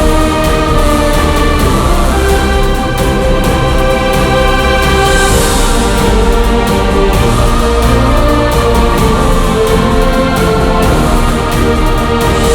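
Full orchestral music built from free orchestral VST plugins, with dense sustained strings and layered instruments, loud and continuous, no voices.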